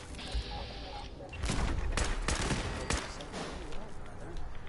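A turret opens fire in Fallout 4, sending a rapid burst of loud gunshots that peaks midway and tapers off, with a voice speaking over the shooting.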